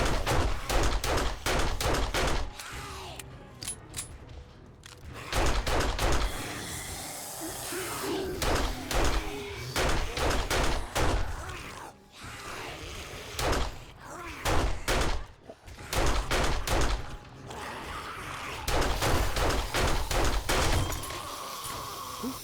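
A hoop gun in the video game Seven Days to Die fires in repeated rapid bursts, sharp close shots clustered in runs with short pauses between volleys, mixed with thuds and game noise.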